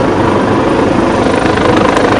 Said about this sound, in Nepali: हेलिकप्टर आयो